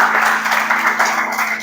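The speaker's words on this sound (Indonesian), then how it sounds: "terima kasih tepuk tangan untuk kalian semuanya" Students clapping in a classroom before a mathematics lesson, a brief burst of close, steady applause.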